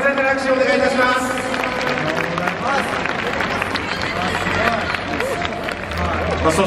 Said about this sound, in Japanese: どうも今一度盛大な拍手をお願いいたします。